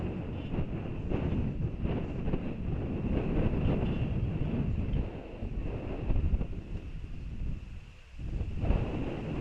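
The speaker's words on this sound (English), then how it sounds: "The wind really starting to blow here" Steady wind roars and buffets outdoors at a baseball game between the Ashbourne Giants and Dublin Spartans, a broad continuous rush with gusts swelling and a brief lull near the end.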